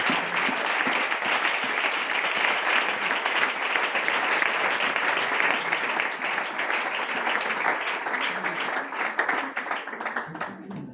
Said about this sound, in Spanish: Dale un fuerte aplauso a Dios, por favor, en esta palabra.